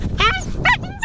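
A large dog on a team gives two short, close barks with a whimpering, yipping edge, separated by a brief pause.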